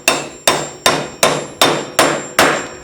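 A hammer taps a socket to drive a front wheel bearing into a Yamaha Raptor hub, seven sharp metallic strikes at a steady, even pace, close and loud with ringing decay between blows and no talk.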